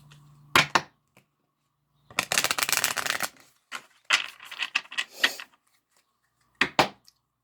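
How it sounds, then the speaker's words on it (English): Cards are shuffled in several quick riffling bursts, with brief crisp flutters separated by short silences, close and clear. "Let me shuffle one more time."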